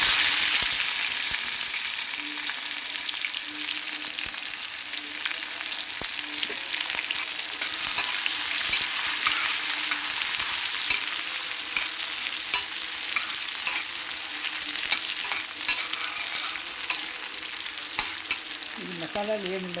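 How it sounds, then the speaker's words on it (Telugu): Onions fry in hot tempering oil for a large brinjal chutney, a steady close sizzle that never lets up. Occasional stirring scrapes and clicks come through it, and no one talks. "ఇది ఉల్లిపాయలు తాళింపు పెట్టుకున్నాను. ఇప్పుడు తాళింపు వేగింది. ఇప్పుడు ఉల్లిపాయలు వేస్తున్నానండి."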